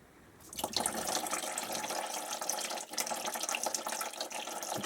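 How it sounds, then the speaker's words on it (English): Coolant draining from a Suzuki GSX1300R Hayabusa motorcycle radiator via a removed overflow pipe, a steady close splashing trickle of liquid starting abruptly and pouring continuously. "Just let that drain out."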